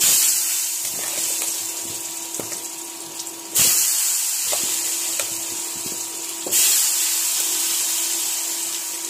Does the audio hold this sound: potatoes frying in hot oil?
yes